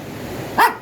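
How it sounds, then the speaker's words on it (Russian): A dog on a Black Sea shore holiday lets out a single loud, close bark near the end, following a brief stretch of quiet background. "Там собака, да?"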